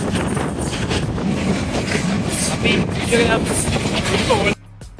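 A passenger train in Colombo rolls along with a steady loud rumble and rattle of the carriage, faint wheel clatter and some wind buffeting, until the noise suddenly drops off at the end.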